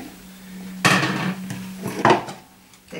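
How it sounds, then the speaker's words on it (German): A lid goes onto a Thermomix TM31 mixing bowl as two distinct clattering knocks about a second apart, the first landing louder with a short scrape, close by over a low steady hum. "Deckel drauf."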